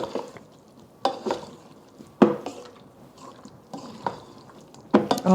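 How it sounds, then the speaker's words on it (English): Food tossed and stirred in a pan makes soft wet squishing and sizzling, punctuated by distinct utensil clatters roughly every second, fairly close and moderately quiet. "At this point, we're just gonna toss everything around."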